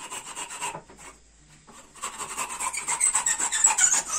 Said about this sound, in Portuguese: Vem aqui com o serrote e tira o excesso.